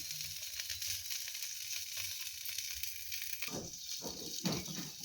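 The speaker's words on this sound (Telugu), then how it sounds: "ఉల్లిపాయ టమాటా పచ్చిమిరపకాయ వేగిందండి ఎసర పోసుకున్నాం ఉప్మాకి ఎసర పోసుకుని కొంచెం సాల్ట్ వేసుకున్నాం" Water poured into a pan of frying onion, tomato and green chilli for upma, a steady close sizzle that erupts into louder bursts of bubbling hiss toward the end.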